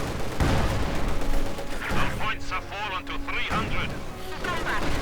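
Field guns fire in the World War II strategy game Company of Heroes 2, several heavy booming shots spaced a second or so apart over dense battle noise, with a voice talking partway through.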